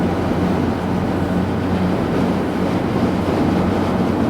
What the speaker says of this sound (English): It's fairly windy today though, so you will hear it a little bit more than you normally would.